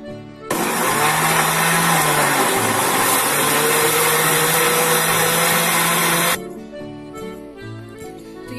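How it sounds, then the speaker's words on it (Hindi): Electric mixer grinder blending chunks of fresh watermelon with sugar, a loud, close, continuous motor whir running about six seconds, starting abruptly and cutting off sharply, with a quieter rattle afterwards. "तो इसे हम ग्राइंड कर लेते हैं।"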